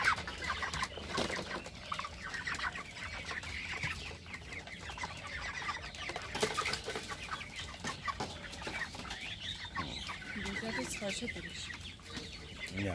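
Several broiler chickens raised on fermented water feed cluck on and off through a noisy farm shed, steady background clatter throughout and a voice talking at times.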